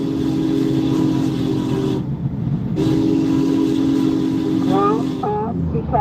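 Union Pacific 4014 Big Boy steam locomotive passing close by, a loud sustained roar and rumble of the heavy train that drops out briefly and returns, with whistle-like tones rising near the end.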